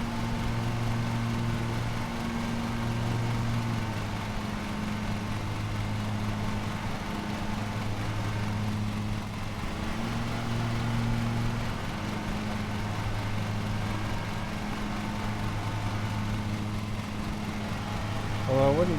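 A gas lawn mower engine in a mowing simulator game runs steadily with a rhythmic pulsing drone, while a person talks over it at length.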